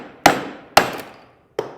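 A mallet drives a chisel into the side of a piece of wood in a school chisel project, giving three sharp, close knocks, the first two close together and the third after a short pause, each ringing off quickly.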